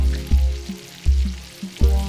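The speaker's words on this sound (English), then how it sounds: "I got my chicken here frying" Ghost pepper chicken frying in hot oil, a close steady sizzle with regular bubbling pops every half second or so.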